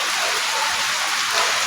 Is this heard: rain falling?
yes